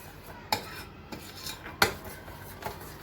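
A spoon scrapes and mixes thick mango shrikhand with cardamom, pistachio, almonds and chironji in a bowl, giving a few distinct raspy strokes and clinks close by, with quiet gaps between them.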